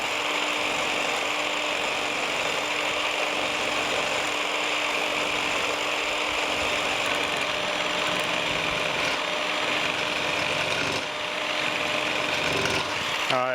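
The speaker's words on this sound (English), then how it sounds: "I've got my scraper set up here" A Biax power scraper chatters steadily against a cast-iron camel back straight edge, a loud continuous buzzing rasp at close range with a brief dip near the end.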